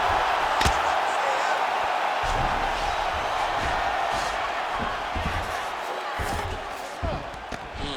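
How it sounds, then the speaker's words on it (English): An arena crowd in a UFC heavyweight fight simulation roars steadily, a dense sustained cheer with occasional thumps and shouts rising through it, loud and continuous throughout. "the crowd is loving it"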